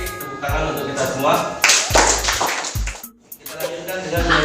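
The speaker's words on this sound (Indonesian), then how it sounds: "tepuk tangan untuk kita semua" Applause from students in an Indonesian school classroom, a burst of clapping that rises and fades, with a second round of claps toward the end and a teacher's voice speaking over parts of it.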